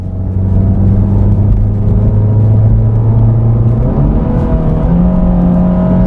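A 2018 Honda Fit with a 1.5-liter GDI engine and a P0172 rich-fuel fault accelerates toward wide open throttle, a loud, close, steady engine drone whose pitch climbs with a gear-shift step midway.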